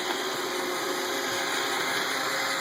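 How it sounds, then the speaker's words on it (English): iRobot Roomba 770 robot vacuum cleaner running indoors, a steady close whirring hum with a high tonal whine, constant and unbroken. "IRobot Roomba."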